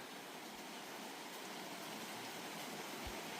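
A river running strongly in the monsoon after heavy overnight rain, a steady broadband rush of flowing water, fairly faint and constant, with no voices.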